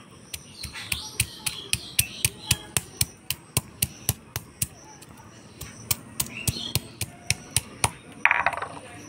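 Ginger, cumin, dried chillies and onion are ground together into a paste with about twenty sharp, evenly spaced knocks at a brisk pace, close and clear, and no talking.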